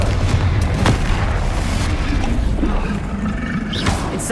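Spell explosions from the Hogwarts Legacy video game, a steady barrage of loud booming blasts and crackling bursts with a sharp pop near the start and another late, dense and continuous with no pauses.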